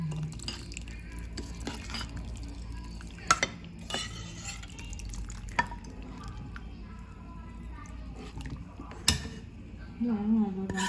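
Thick mung bean and glutinous rice mixture being stirred in a pot with coconut milk, a soft continuous sloshing with occasional utensil knocks against the pot, with a voice talking at the end.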